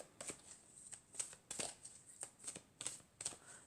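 Triad oracle cards are riffled and shuffled by hand in a quiet room, a string of about eight short, crisp paper flutters in an uneven rhythm, close and alone.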